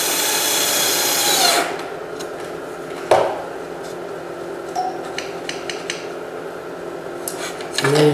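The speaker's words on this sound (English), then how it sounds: "And put a third screw in." A power drill drives a screw into wood while assembling a Franklin ladder chair, a loud steady whir for about a second and a half, followed by a sharp tap and scattered small clicks and handling noises in a quiet shop.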